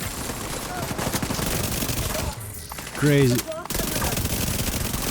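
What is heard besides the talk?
Vector SMG gunfire in video game The Division 2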